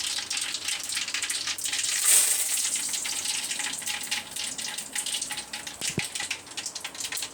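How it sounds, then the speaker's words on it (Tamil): Mustard seeds and urad dal splutter and crackle in hot oil in a pan, a dense sizzling hiss with scattered pops that swells briefly and then settles, with no talk. "கடுகு, உளுத்தம்பருப்பு நல்லா பொரிஞ்சு வரட்டும்"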